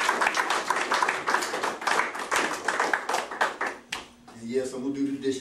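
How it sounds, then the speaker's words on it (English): An audience at a wedding celebration claps steadily for about four seconds, loud and close, before a voice starts talking over the fading claps. "Y'all give me a clap for that."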